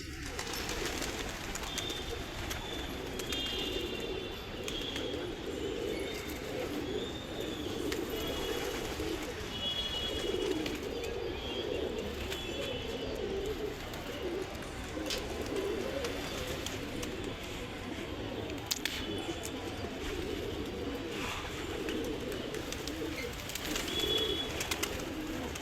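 Kept pigeons cooing in the morning, soft low coos repeating steadily from several birds nearby, with faint chirps and a light background hum and no talk.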